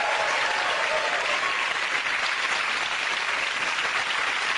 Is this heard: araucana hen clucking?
no